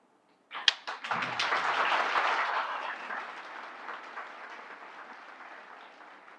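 Burst of audience clapping for a chief guest at a welcome function, starting abruptly, swelling quickly, then tapering off gradually over several seconds, moderately loud with no talk.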